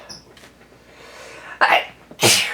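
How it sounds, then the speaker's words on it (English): Two sharp sneezes in quick succession, close and loud, after a brief quiet lead-in. "I feel like I have to sneeze."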